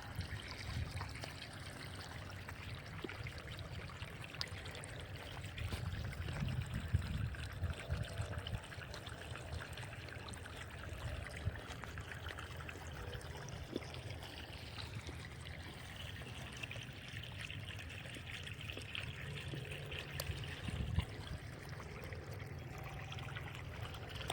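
Water flows from the pipe of a single-phase motor pump in a farm field, a continuous low trickling and splashing that stays fairly faint and steady throughout, with no talking.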